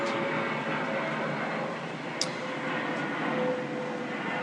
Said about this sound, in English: if you hear an airplane or some background noise, know it's because I'm outside